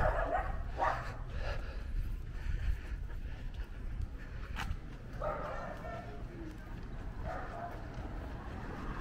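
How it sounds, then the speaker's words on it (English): Dogs bark on a street in Torreón, Mexico, with a few scattered yips and barks at moderate distance over steady outdoor traffic and street noise, with some talk in the background. "Oh, more Mexi dogs."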